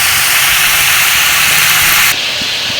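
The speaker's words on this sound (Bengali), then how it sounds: "আলুটাকে লালচে লালচে করে ভেজে নেব।" Potatoes fry in hot oil in a pan until reddish, for aloo posto. A loud, dense, steady sizzle fills the clip, dropping slightly in brightness near the end.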